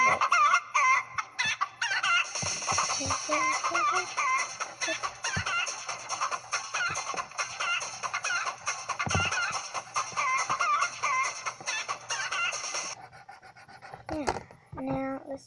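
A person does a crazy chicken voice for a face puppet, imitating clucking and rooster crowing in a loud, busy run of squawks that lasts about thirteen seconds before breaking off into short bursts.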